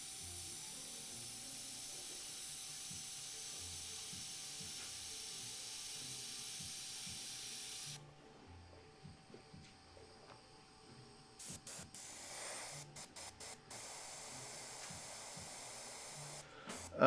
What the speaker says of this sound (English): Airbrush works.